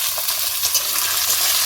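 Peas sizzle steadily in a pan of ghee mixed with white oil, with cashews and raisins, for peas pulao; a close, even frying hiss with no talk.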